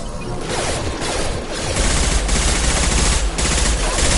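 Sustained rattling gunfire from a firefight in Mass Effect 2 Legendary Edition, dense and loud, with overlapping rapid shots and clatter throughout.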